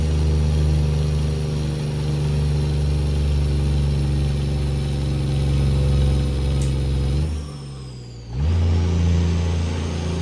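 A Cat C-12 truck engine in American Truck Simulator drones steadily under heavy load, then dips and drops briefly before the loud, close, even rumble resumes.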